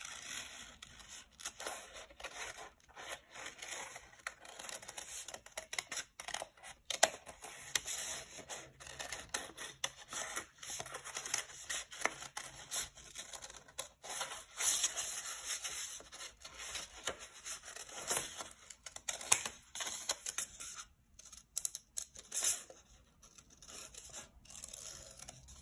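Scissors snip through folded paper to cut out an amphora shape, a close, steady run of small crisp cuts and rustles that goes on throughout, with no voices.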